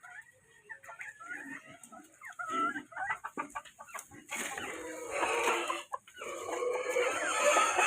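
Several chickens cluck and squawk nearby in a flooded coop, irregular bursts that grow busier and louder toward the end.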